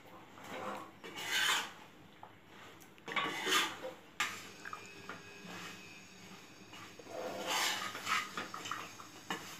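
Maida khurma being stirred through sugar syrup in a pot, giving a steady series of close rasping, scraping strokes with occasional metallic clinks of utensil on vessel, with no talking.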